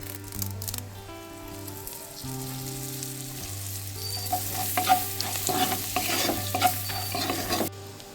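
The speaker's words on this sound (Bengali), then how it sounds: "এবার দিয়ে দিচ্ছি কারি পাতা ফোড়ন" Curry leaves tempering in hot oil for lemon rice, a loud stirring clatter and sharp sizzle that builds in the second half, with sustained music-like tones running underneath and no talk.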